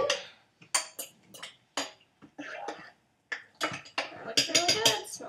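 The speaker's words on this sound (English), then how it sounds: "So we're going to stir all the beef in." Spoon scraping and clinking against a cooking pot while vegan beef is stirred in with olive oil, in irregular close bursts separated by brief pauses.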